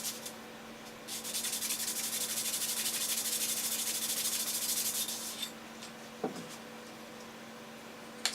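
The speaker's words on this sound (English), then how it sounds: "Let's sand it down a little more." A clarinet reed being sanded, heard as a steady, close, scratchy rubbing that runs for several seconds, then stops, leaving a faint background hum and a small knock.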